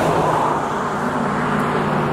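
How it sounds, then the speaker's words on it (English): A car passes on a road near a creek and bridge, a steady broadband tire-and-engine rush at close range with no other sounds over it. "So there's a car coming."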